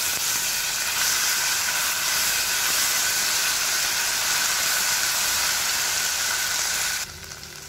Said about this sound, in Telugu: One tea spoon ginger garlic paste. పచ్చివాసన పోయే వరకు ఫ్రై చేసుకోవాలి.